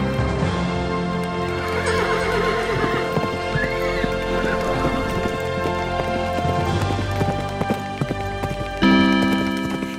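Horses whinnying with clip-clopping hooves in a Hindi children's story, set against a constant dense music bed with layered tones; the neighs and hoofbeats blend into the busy soundtrack rather than standing alone.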